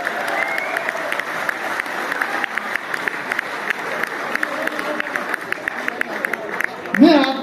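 An audience at a comedy poetry event in Rishikesh claps steadily and densely, a sustained wash of applause with a faint murmur of crowd, ending in a brief louder rustle.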